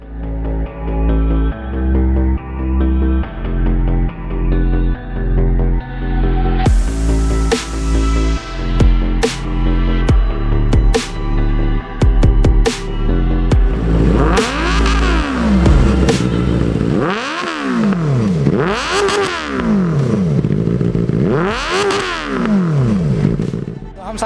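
A superbike exhaust barks through a series of sharp throttle blips inside a detailing showroom, then several long roaring revs that rise and fall, loud and close.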